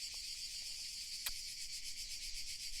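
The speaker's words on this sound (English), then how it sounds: "you can probably hear not only me but also the cicadas, because it's hot Croatian summer" Cicadas chirr in a hot summer olive grove in Croatia, a steady high buzzing drone pulsing evenly throughout, with a faint low rumble beneath and one brief sharp click partway through.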